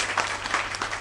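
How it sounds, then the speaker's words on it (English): A round of applause from a small gathering on a podcast set, a brief burst of hand clapping at moderate volume with no voices over it. "big round of applause"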